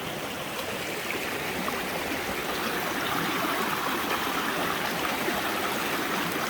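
A creek flows over rocks with a constant, full rushing and babbling sound, steady and fairly close, with no voices over it.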